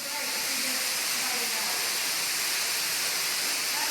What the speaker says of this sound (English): Look at this waterfall, y'all.